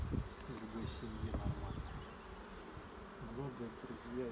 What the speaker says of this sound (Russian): Много, друзья, идет пчелы